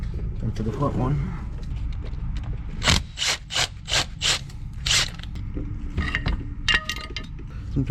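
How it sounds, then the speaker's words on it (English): Wrench work on the transfer case bolts of a Jeep XJ, a run of about six sharp, evenly spaced metallic ratchet clicks in mid-clip, with scattered clinks and scraping around them, close and moderately loud. "I'm trying to get those bolts out."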